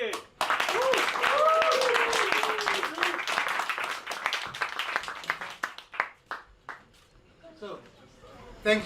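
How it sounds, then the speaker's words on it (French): Audience at a cryptocurrency meeting gives a burst of loud, dense applause that gradually thins out into scattered individual claps and fades to near silence, with a voice audible early on. "On applaudit bien fort, Didi."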